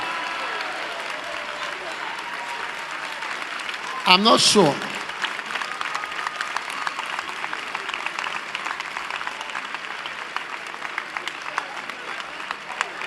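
Sustained clapping from a crowd at a preaching event goes on throughout, with a brief burst of talk and noise partway through before the dense applause continues under a speaking voice.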